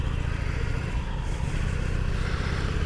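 Harley-Davidson Iron 883 motorcycle engine accelerating on the road, a steady loud low rumble with rough clattering texture filling the whole stretch, close up and continuous with wind noise, no talking.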